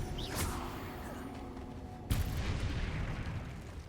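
Spell blasts and impacts in the Hogwarts Legacy video game, a dense run of booming, whooshing bursts with a sharp loud hit midway, layered over continuous game noise.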